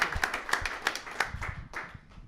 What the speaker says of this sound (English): round of applause for Denver Open Media.